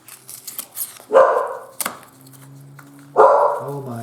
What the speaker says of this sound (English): And the dog is barking.